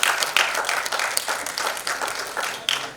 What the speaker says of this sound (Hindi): देखिए सबसे ज्यादा तालियों की आवाज अनु मलिक जी की आ रही है